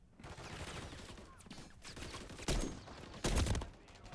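Magnum revolver fired in Modern Warfare III, a couple of sharp loud shots standing out over lighter gameplay clatter and rustle.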